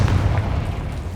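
Confringo fire spell exploding in Hogwarts Legacy, a short deep boom with a rumbling tail, close and fairly loud.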